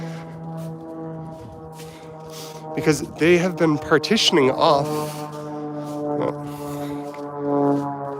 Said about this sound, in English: Sorry for the plane in the background.